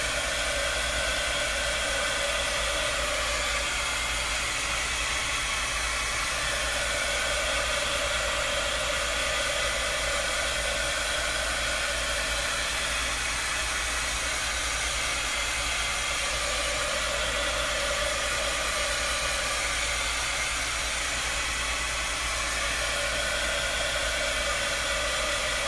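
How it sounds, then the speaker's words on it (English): A handheld heat tool blows hot air over a craft transfer, a constant loud rushing hiss held steady for the whole stretch, close and unbroken with no talking. "I'm just using a heat tool"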